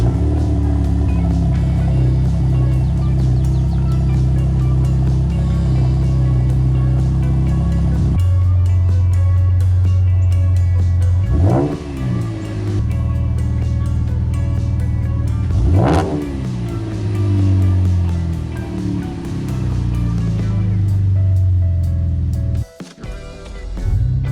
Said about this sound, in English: there's a lot more low into the exhaust note